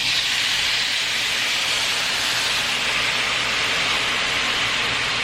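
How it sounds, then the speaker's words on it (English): Chicken broth poured into a hot pan to deglaze browned bits for a chicken orzo casserole, giving a loud, steady, close sizzling hiss that holds evenly for the whole stretch. "Wait till you hear that sizzle."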